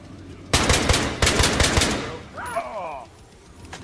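Single gunshots fired one at a time in a first-person shooter game, a run of sharp loud reports in quick succession with speech mixed in, then the noise fades.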